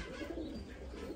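Pigeons coo steadily in a loft, several low, rolling calls overlapping close by with no talk.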